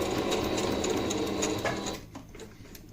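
A sewing machine stitching a fabric face mask, a fast continuous mechanical whir with rapid needle clatter for about two seconds, then stopping and leaving faint handling noise.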